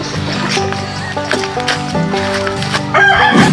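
Chickens cluck and a rooster crows close by, with several birds calling over one another in a busy, noisy yard.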